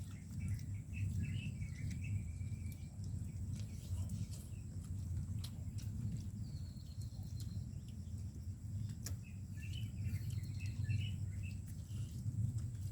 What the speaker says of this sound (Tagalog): Sarap ng huni ng ibon.